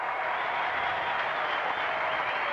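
A Swedish tennis crowd at a 1996 Australian Open match between Edberg and Fleurian applauds and cheers, a dense, steady roar of clapping that carries evenly throughout.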